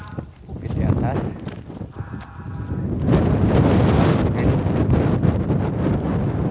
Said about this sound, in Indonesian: Angin datang dengan tiba-tiba.